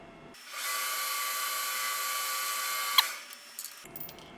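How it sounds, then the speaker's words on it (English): A slightly larger center drill machines a chamfer into a 1971 Honda CB750 carburetor, a steady high-pitched drilling whine running for about three seconds with a small click near the end, then the tool spins down, quiet otherwise. "I'm gonna use a slightly larger center drill just to give it a little chamfer."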